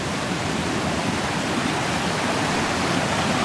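Steady, loud rushing of a water stream flowing near a waterfall in natural surroundings, a continuous broadband roar with no speech.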